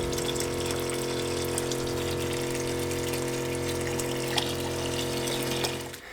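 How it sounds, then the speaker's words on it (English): Boat watermaker pump flushing pickling solution through the system, a steady droning motor hum with a constant watery rush, unbroken until it winds down at the very end. "The pickling solution is now completely run through the system, everywhere from the pump right up through to the discharge."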